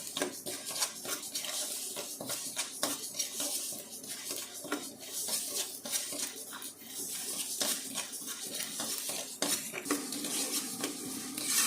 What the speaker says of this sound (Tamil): நல்லா பொரிஞ்சு வந்தாச்சு. வெந்தயம் பொன்னிறமாக வந்தாச்சு.